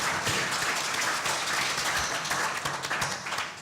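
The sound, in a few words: audience applause for expo organizers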